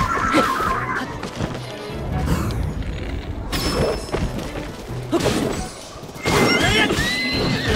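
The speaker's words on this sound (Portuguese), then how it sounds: "O cavalo!" A horse neighs shrilly several times amid thuds, crashes and booming impacts in Zelda: Tears of the Kingdom, loud and chaotic throughout.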